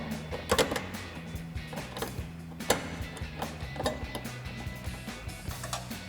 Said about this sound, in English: You can grab our 10 millimeter ratcheting wrench and tighten that down.